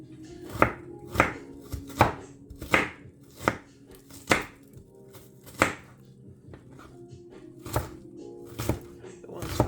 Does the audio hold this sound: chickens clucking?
no